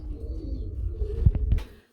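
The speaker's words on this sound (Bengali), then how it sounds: "আমরা এইখানে দেখতে পাচ্ছি আরেক জোড়া কবুতর চলে আসছে" Low, throaty coos from a pair of fancy pigeons at a pigeon sale rumble for a couple of seconds, with a few soft flutters or taps near the end, fairly close by.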